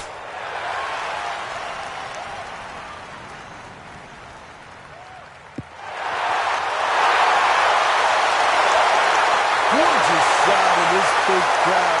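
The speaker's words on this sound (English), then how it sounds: "Big crowd absolutely loves it." A golf video game crowd at the 16th hole swells into loud cheering and applause after a brief sharp thud, with quieter crowd murmur before it and a voice speaking over the roar.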